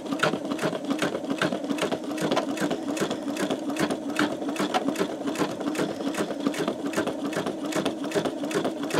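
An older embroidery sewing machine about ten years old stitches steadily, a loud, even, rapid mechanical chatter that runs without pause for the whole stretch.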